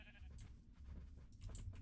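Sheep bleat repeatedly on a video game farm, a cluster of bleats early and another near the end over a steady low background hum.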